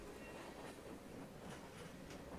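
A train of 40-foot boxcars rolls past with a steady, rumbling clickety-clack, faint and continuous, no voices.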